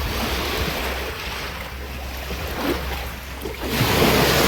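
Steady wash of sea surf with waves breaking close by on a Greek island, broadband and continuous, with wind buffeting the microphone; no voices.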